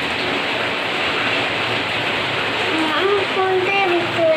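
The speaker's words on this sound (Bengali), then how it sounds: "আর বাইরে এখন মুষলধারে বৃষ্টি হচ্ছে।" Heavy torrential rain pours down outside as a constant, dense roar, with a voice briefly audible near the end.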